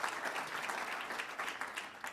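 An audience applauds at the Ontario Economic Summit in Toronto. Many hands clap together in a dense, sustained wash of sound that stays fairly even and moderately distant from start to finish.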